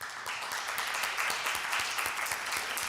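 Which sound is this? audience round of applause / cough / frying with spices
audience round of applause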